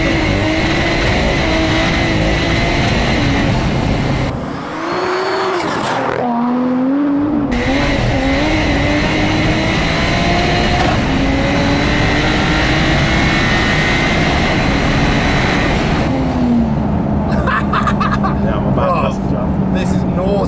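A 1000hp rear-wheel-drive BMW 140i 1 Series with a B58 engine pulls hard, its loud engine note rising and dropping through gear changes for about twenty seconds, close and continuous, with a brief tyre chirp and cabin voices underneath.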